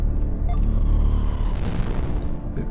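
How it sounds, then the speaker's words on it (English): A bomb detonating in the video game OESE: a deep, heavy booming rumble that fills the whole moment, loud and sustained, with a swelling burst of blast noise partway through. "You caused the bomb to explode."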